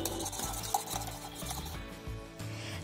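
Spoon stirring chicken kabab marinade with fresh cream in a bowl, soft wet scraping and squelching strokes close by, steady and quiet, with no talking.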